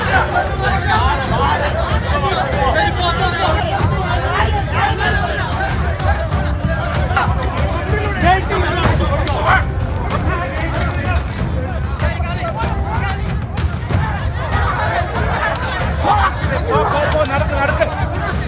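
An angry crowd in Nenmara, Kerala, shouts at police to hand over a double-murder accused. A dense, loud din of overlapping voices runs unbroken throughout.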